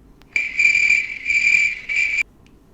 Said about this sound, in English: Silence, crickets.